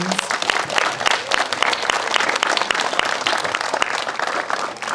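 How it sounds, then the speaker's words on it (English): An audience at a city band concert applauds the trombone section, a dense, lively round of clapping from a crowd that continues steadily throughout. "Another round of applause, please, for our trombones."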